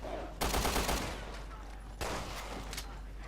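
Bursts of gunfire in the video game Resident Evil Revelations 2, two loud broadband blasts about a second and a half apart over a low steady hum, with a voice speaking briefly.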